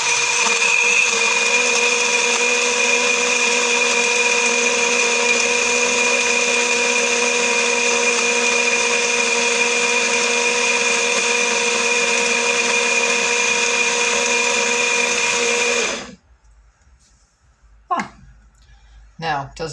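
A BlendJet 2 portable blender whirs steadily with a loud, even motor drone for about sixteen seconds while blending sweet potatoes and apples, then cuts out abruptly, leaving near silence broken by a few soft clicks and handling bumps.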